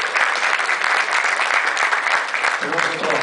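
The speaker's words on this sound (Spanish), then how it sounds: "Que le demos un aplauso, por favor." Audience at a DJ conference panel applauding: dense, steady clapping from a crowd filling the whole stretch, with a voice starting to speak over it near the end.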